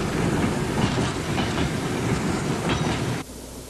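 A train runs on rails across an open plain on the Silk Road, producing a steady, loud rumbling roar with rhythmic clickety-clack wheel beats close by, the noise dropping suddenly near the end; no voices.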